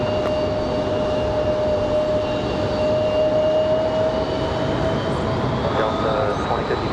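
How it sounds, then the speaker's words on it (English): A Boeing 737 touches down at Raleigh Durham airport, a steady broadband jet roar with a sustained whining tone holding throughout, loud and continuous, with faint voices talking beneath it. "Be a nice touchdown for the 737."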